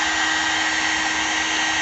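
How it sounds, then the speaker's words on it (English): A heat gun blows hot air onto rubber, a steady loud whooshing hum with a constant motor whine, close and uninterrupted with no voices. "What I do first, heat gun, and I'll heat it up real good."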